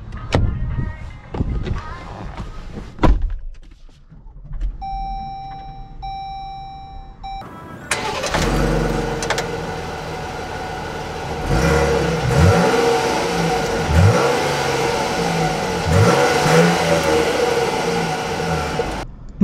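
A 2021 Jeep Grand Cherokee L Summit Reserve starts up after a brief electronic chime, its engine catching and then revving and rising in pitch as it pulls away, steady and close with repeated throttle swells.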